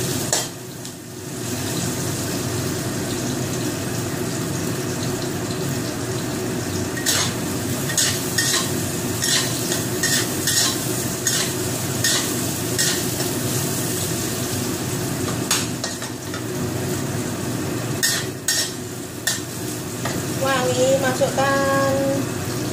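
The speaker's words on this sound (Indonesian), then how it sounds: "masukkan bawang merah. Tumis hingga layu." Shallots sauté in oil in a pan while cooking Indonesian nasi gurih, giving a steady sizzle with scraping and stirring clinks throughout.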